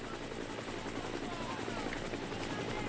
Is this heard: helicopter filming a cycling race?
yes